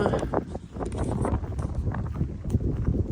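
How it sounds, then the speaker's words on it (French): Strong outdoor wind buffets the microphone in uneven, rumbling gusts on a llama farm, the blustery roar filling the whole moment. "je pense qu'il y a trop de vent, ça va être pas top"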